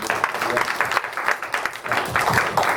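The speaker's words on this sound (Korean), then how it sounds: "우리 하나님께 영광의 박수 드립니다" A church congregation claps together after a closing prayer at a Korean worship service, a dense, steady wash of hands with a voice talking over it.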